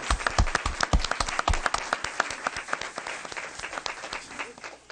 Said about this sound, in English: let's give another round of applause to these excellent Heritage student athletes